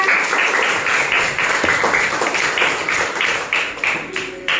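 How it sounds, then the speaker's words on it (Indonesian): Fifth-grade schoolchildren clap for classmates in a classroom, a loud, somewhat uneven run of close hand claps with a few distinct sharper smacks near the end. "Tepuk tangan untuk teman kita."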